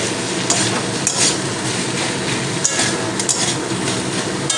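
Vegetable chop filling with sugar is stirred in a pan, making a constant close frying hiss broken by scattered light clinks and taps of a utensil against the metal, with no talk.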